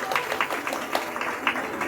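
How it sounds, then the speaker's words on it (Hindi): Small audience clapping at a Hindu religious katha recital on the Shiva–Parvati wedding, a brief burst of scattered, uneven claps under a faint speaking voice. "ताली बजाओ सब लोग, ताली बजाओ।"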